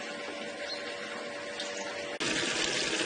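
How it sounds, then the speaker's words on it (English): A rainwater harvesting pump kicks on after a steady hum of trickling water, its motor joining with a sudden broadband rush as water is pumped into the storage tank, close and continuous. "pump turns on"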